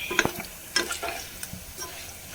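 Beef finger fry sizzles in hot oil while being stirred, with close scraping strokes and short bursts of crackle over a low bubbling hiss.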